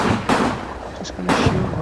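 Rifle and heavier weapon fire in the WWII wargame Combat Mission Battle for Normandy, two sharp loud reports about a second apart with rumbling battle noise between them.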